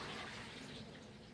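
Water pours steadily into a pan on a stove, a continuous broadband splashing rush that stays fairly even and close for the whole stretch, with no voices over it.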